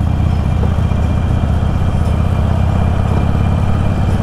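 A Harley-Davidson motorcycle engine idles nearby with a steady low rumble and faint rhythmic putter, continuous for the whole stretch with no voices.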